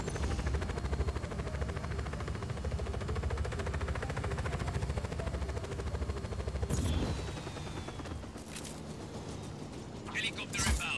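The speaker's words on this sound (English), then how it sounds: "Helicopter inbound." In the video game Just Cause 4, a dense, loud rumble of helicopter rotor and engine noise runs throughout, mixed with bursts of gunfire, easing slightly toward the end.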